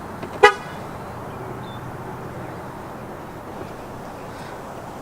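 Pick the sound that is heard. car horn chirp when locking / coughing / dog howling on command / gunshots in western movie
car horn chirp when locking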